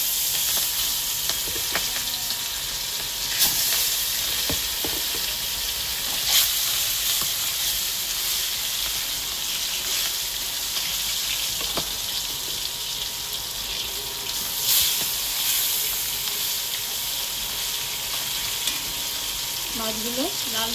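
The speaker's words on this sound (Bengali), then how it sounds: "প্রথমে কড়াইতে তেল দিলাম। প্রথমে মাছগুলো ভেজে নেব।" Rohu fish pieces fry in hot oil in a wok, giving a steady close sizzle with a few louder crackling bursts and light clinks of a utensil throughout.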